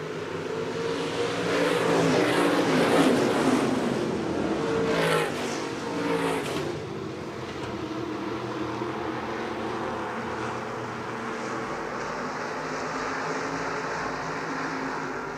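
Stock cars and hobby stocks race at Shelby County Speedway, a loud roar of engines building and sweeping past before easing into a steadier, more distant drone of cars circling the track.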